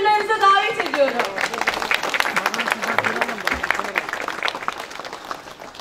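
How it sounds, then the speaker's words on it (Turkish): A voice speaks briefly at the opening of a Zen Diamond launch ceremony, then an audience breaks into scattered, then steadier, clapping that continues at moderate loudness and slowly fades. "Sayın Erdinç Küçük Oyuncuları alkışlarınızla huzurlarınıza davet ediyorum."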